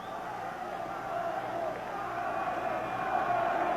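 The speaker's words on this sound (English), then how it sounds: "There's the crowd chanting for their champion" Arena crowd chanting and roaring for their champion at a kickboxing bout between Marek Piotrowski and Don Wilson, a steady swelling din under a commentator's voice.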